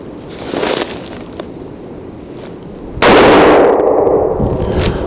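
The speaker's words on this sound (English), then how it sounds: "Send one of these RDS downrange. Let's see how close we got." A rifle fitted with a hand-lapped Benchmark carbon barrel fires a single shot downrange, a sharp loud crack with a short ringing decay after a few seconds of quiet outdoor background.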